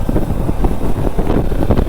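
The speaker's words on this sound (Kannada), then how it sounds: "ಕೋಲ್ಡ್ ಅಂದರೆ ಒಂಥರ ತುಂಬ ಗಾಳಿ ಇದೆ ಬೆಳಗ್ಗೆ" Strong, cold morning wind roars and buffets the microphone during a bike ride, a dense low rumble that stays loud and steady throughout the short stretch, with no voices.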